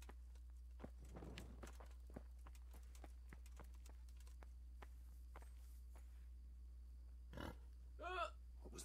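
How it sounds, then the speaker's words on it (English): Footsteps clop along at a steady pace in the video game Kingdom Come: Deliverance, then a pig gives a short grunting oink near the end, with brief chatter in the background. "It was a pig."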